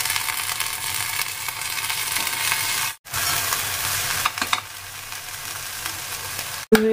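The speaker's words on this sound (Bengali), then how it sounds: "পেঁয়াজ দিয়ে ভাজাটা হবে তো, একটুখানি বেগুনগুলো মিশিয়ে দেবো।" Onion and eggplant fry in a pan with a loud continuous sizzle, briefly interrupted as they are stirred, ending with a short clink of a utensil; no voices are heard.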